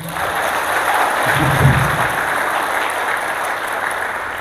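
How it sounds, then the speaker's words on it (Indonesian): Steady applause from a crowd at an Indonesian religious gathering, sustained for several seconds at moderate loudness with a faint low hum underneath. "Tepuk tangan dulu dong."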